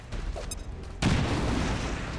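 An explosion in the video game XCOM 2 hits abruptly after a second of quieter game sound, then a dense, loud rumbling roar with crackle fills the rest, with no talk over it.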